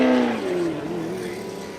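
A race car engine roaring at Daytona International Speedway, loud and close with its pitch sliding downward as it passes and fades slightly.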